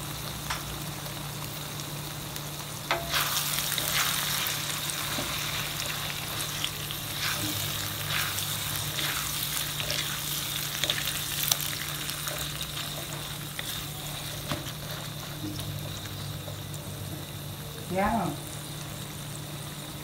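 Tomato added to a hot pan for tofu sambal fries with a steady, loud sizzle that runs through the whole stretch, with small stirring clicks and scrapes now and then.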